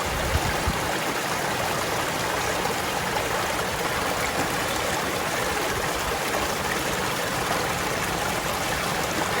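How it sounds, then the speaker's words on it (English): Stream water rushes and splashes continuously into a collapsible filter bag at close range, a steady broadband flow with no pauses. "So if the water's flowing like that, you don't have to scoop it several times."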